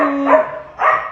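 An Australian Shepherd puppy gives two quick, high yapping barks, close and clear, with a short pause between them.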